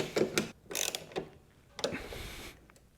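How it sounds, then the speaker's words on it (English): A ratchet wrench tightens the skid bolts on a snowblower, a few quick bursts of clicking with short pauses between, close and fairly quiet. "Then I'm gonna push the skids on each side down to the ground and tighten them up."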